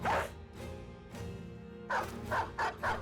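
A dog in the video game Battle Brothers barks in short clipped bursts, a couple of single barks followed by a quick run of three or four, close and moderately loud over a faint game background.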